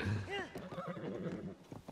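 A horse in Zelda: Tears of the Kingdom lets out a short, fairly faint whinny near the start, followed by a mix of game sounds and a voice talking.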